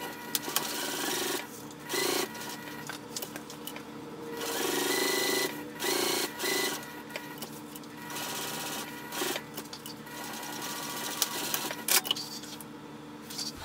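A sewing machine bastes the sides and bottom of a fabric wristlet. It runs in close, rapid whirring bursts separated by short pauses, with occasional clicks between the runs of stitching.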